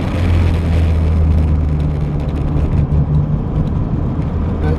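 A Citroen CX turbo diesel, unrefined and rough, drones loudly while driving: a steady low engine hum and road noise fill the cabin without any break.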